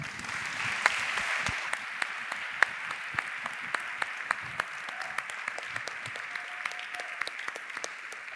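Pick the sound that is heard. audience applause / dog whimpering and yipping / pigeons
audience applause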